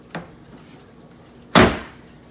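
A Klearvue cabinet drawer is pushed home on its slides: a light click comes first, then a louder, sharper knock as it seats, ringing briefly before fading.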